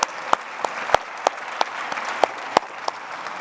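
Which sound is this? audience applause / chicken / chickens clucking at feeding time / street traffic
audience applause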